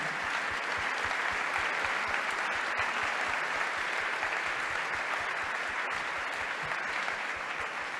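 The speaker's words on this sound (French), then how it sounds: "Je vais vous demander d'applaudir une dernière fois tous nos intervenants." Sustained audience applause at the close of a public debate, dense and steady throughout with no talk over it, filling the room evenly from start to finish.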